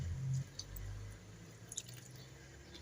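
Water poured and dripping into a flour and oil dough mixture for kesra flatbread, with a short splash followed by soft wet squishing and a few faint drips, close and quiet.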